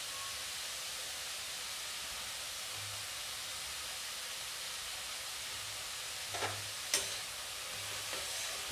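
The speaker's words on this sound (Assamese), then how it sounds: "ভালদৰে লৰাই দিছোঁ।" Assamese sour fish curry with pumpkin, turmeric and salt sizzling in a pan while being stirred, a steady frying hiss broken by a few soft scraping knocks of the spoon near the end, with no talking.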